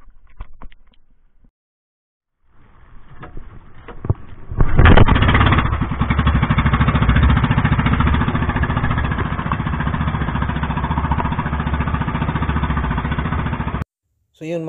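A fishing boat engine at sea starts after a brief quiet gap, then runs loud and close with a steady chugging rumble that continues until it cuts off near the end.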